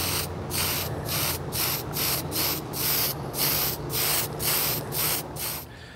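Spray primer is applied to an EVA foam mask in repeated short bursts, a loud close hiss that pulses in an even rhythm for several seconds with no talking.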